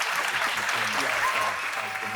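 Steady applause from a crowd fills the whole stretch, dense, even clapping with no pauses, heard alone at a fairly close distance.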